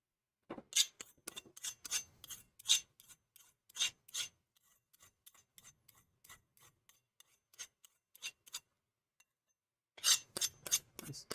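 A hatchet edge drawn across a handheld sharpener in quick rasping strokes, clustered in bursts with a lighter, sparser stretch in the middle, close and quiet with no talk.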